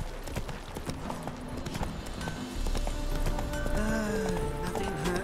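Roach, a horse in The Witcher 3, gallops with rapid, rhythmic clip-clop hoofbeats up close, alongside snorting and a brief whinny-like tone.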